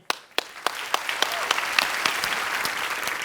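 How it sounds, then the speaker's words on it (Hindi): Audience applause in a comedy show studio starts as a few sharp separate claps and quickly swells into steady, dense clapping from the crowd. "रहमान साहब के लिए एक बार जोरदार तालियां हो जाएं।"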